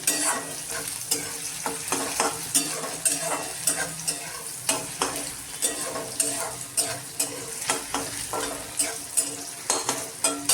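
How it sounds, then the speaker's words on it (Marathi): Onion and tomato sautéing in a pan: a continuous hiss of frying with brisk, regular scraping strokes of a spatula, close and fairly loud throughout, and no speech. "आता आपला कांदा टोमॅटो जरा परतलेला आहे."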